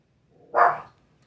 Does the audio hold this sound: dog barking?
yes